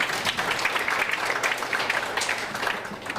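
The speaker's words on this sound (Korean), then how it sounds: "박수 한번 부탁드립니다." An audience at a public forum event applauds, steady dense clapping from many hands at moderate loudness, sustained evenly from start to end.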